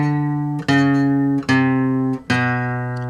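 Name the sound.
guitar playing a line from the song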